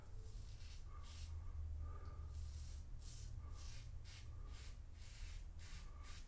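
Razor blade shaving stubble in cross-grain passes, quiet close scraping strokes repeating in short rhythmic bursts over a low background hum.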